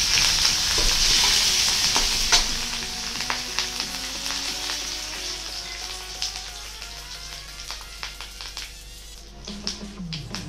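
Curry leaves, about ten to twelve with a pinch of asafoetida, sizzle and crackle in hot oil for an Indian wheat-flour fara dish, a steady close frying hiss with stirring scrapes and small pops throughout.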